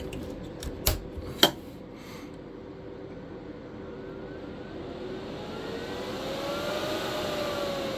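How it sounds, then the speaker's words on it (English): An inverter's cooling fan spins up after a couple of sharp clicks from a breaker switch, its whir rising steadily and growing louder, with a faint tone climbing underneath. "its fan gets very loud"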